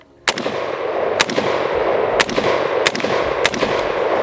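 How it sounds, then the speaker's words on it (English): An HK piston-driven rifle fires at a target outdoors, six sharp, loud single shots at uneven intervals, each followed by a ringing echo, with no talk. "HK's piston driven system also keeps the recoil real light, feeds reliably, and it just keeps on shooting."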